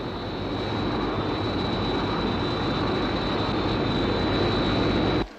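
A fixed-wing aircraft engine drones loud and steady throughout, a dense continuous roar with a thin high whine, cutting off abruptly at the end.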